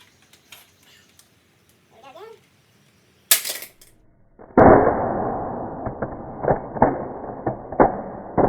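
Glock pistol magazines, ETS and Magpul, are dropped onto the ground, giving a sharp impact crack followed after a pause by a loud clattering hit and scattered rattling knocks that fade.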